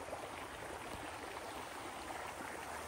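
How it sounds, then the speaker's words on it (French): A forest stream flows in a steady, faint broadband rush with no breaks and no voices. "avec le bruit du ruisseau."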